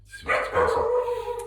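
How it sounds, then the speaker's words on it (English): A small pet dog barks close by in a brief, sharp burst of yaps, with no talking over it. "That's my dog"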